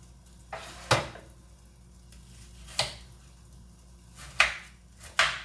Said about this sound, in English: cutting the cauliflower, again in a bite size